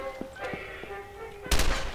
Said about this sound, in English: Ah, guns!